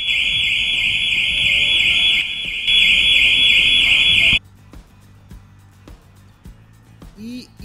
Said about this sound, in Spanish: Y esa era su alarma